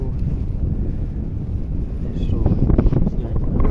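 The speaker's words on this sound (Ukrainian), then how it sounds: "дуже дуже сильний вітер" Heavy wind buffets the microphone in low, rumbling gusts that swell toward the end, with no voices present, at the Huiva River during ice breakup.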